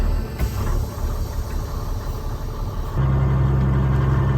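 The engine of an old truck found in a field rumbles steadily during a test drive, close and loud, its low drone shifting to a stronger, deeper hum partway through, with no talk.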